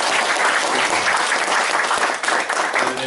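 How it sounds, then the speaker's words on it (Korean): Loud, dense applause from attendees at a Gyeongsangbuk-do citizen jury meeting at the provincial office, greeting a visiting Korea Manifesto official. The clapping is continuous and close, with a slight dip near the end. "또 박수 한번 쳐드립니다."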